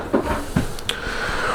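A large pot and pan drawer slides out beneath the refrigerator in the kitchen of a 2020 XLR Nitro 351 toy hauler RV, giving a couple of soft knocks and a smooth gliding rumble up close.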